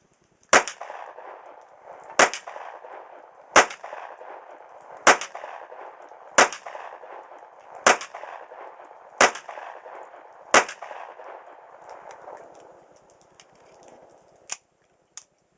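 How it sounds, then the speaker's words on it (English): A 1911 pistol fitted with a bushing compensator, fired eight times at a slow, steady pace: sharp, loud cracks about every 1.3 seconds, each with a short echo tail, then two fainter clicks at the end. "I want to first test with some slower shots, 8 rounds"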